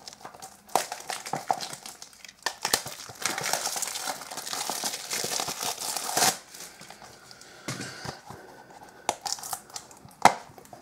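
Plastic film is torn and crinkled off a Manhunt 2 and Dead Rising Collection game package, loud close rustling and ripping in uneven bursts with a few sharp snaps.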